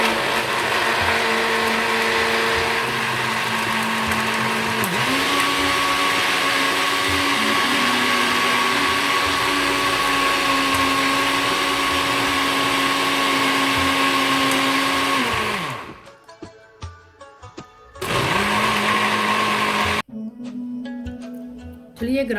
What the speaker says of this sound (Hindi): चलिए ये ग्राइंड हो गया है